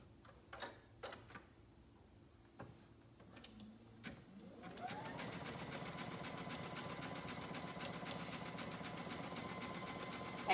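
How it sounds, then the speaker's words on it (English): A home sewing machine stitches the side seam of a pair of pants with gray thread, starting after a few scattered clicks and handling sounds and then running as a steady, close, fast mechanical whir that continues to the end. "We'll be able to sew that side seam back up and continue sewing the rest of the pants."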